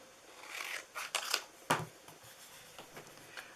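Scissors cutting through card paper for a handmade ladybug card, a few crisp close snips and slicing crunches in quick succession, quiet overall.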